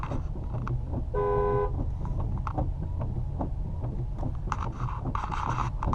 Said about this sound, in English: who's this jackass honking at me?